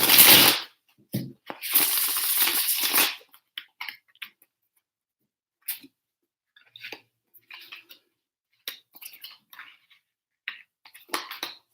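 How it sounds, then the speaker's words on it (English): Tarot cards shuffled by hand at close range: a few seconds of dense, crisp riffling bursts, then sparse soft taps and card clicks in near silence. "One more shuffle."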